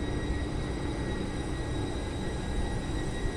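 Passenger train on the KSR Bengaluru–Channapatna run rolling past nearby, giving a continuous dense rumble of wheels and carriages at a constant level, with no talk over it.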